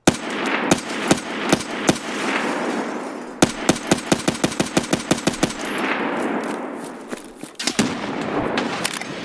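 Automatic gunfire with M62 rounds in Escape From Tarkov on Shoreline, sharp repeated bursts of shots at close range, with a rapid string of rounds in the middle and scattered single shots around it.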